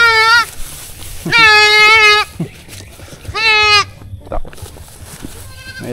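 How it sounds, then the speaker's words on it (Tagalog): A goat on a small farm bleats loudly and close by, three long wavering cries spaced about a second apart, followed by a shorter, fainter bleat. "Mahirap tong kambing na to eh."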